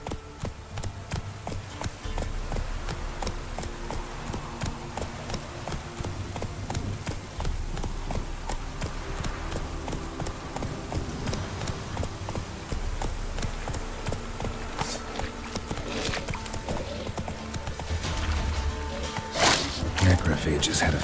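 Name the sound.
horse galloping hooves in Witcher 3 video game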